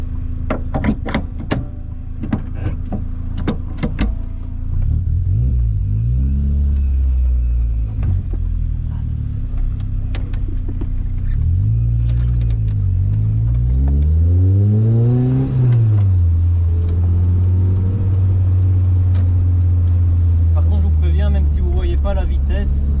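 Lotus Exige S2 sports car driving on an open road, its engine revving up and down through several gear changes with rising and falling pitch, loud and close from the cabin.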